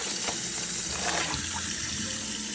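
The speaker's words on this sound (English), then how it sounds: "So what I'm gonna do is I'm just gonna rinse it out." Tap water runs into a sink as a plastic baggie that held dehydrated green onions is rinsed out, a close, steady splashing rush with slight sloshing changes and no voices.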